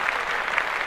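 A brief burst of steady clapping from a small group on a podcast, dense and even throughout with no voices over it.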